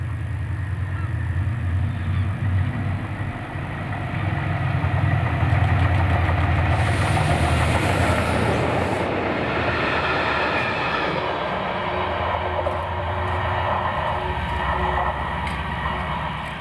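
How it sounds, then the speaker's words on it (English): Train led by locomotive 68033 rolls past the Saltcoats seawall in Scotland, a loud, steady engine drone and wagon rumble swelling midway and holding throughout, with no talking. "the train passing the Saltcote seawall here at 12:01"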